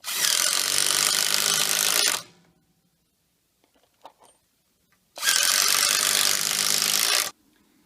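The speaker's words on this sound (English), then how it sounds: "I'm going to put the rest of the screws in and tighten everything up." Two long bursts of a power drill driving screws into wood while a swing is assembled, each run about two seconds, close and loud, with quiet handling noises between them.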